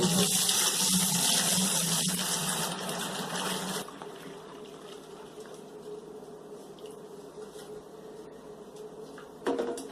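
Home-brewed hoppy wheat beer wort is dumped through a strainer into a bottling bucket, giving a loud rushing pour that drops to a softer trickling and sloshing, with a small splash at the end.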